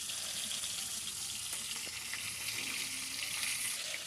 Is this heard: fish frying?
yes